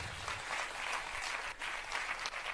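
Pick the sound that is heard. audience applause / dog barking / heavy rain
audience applause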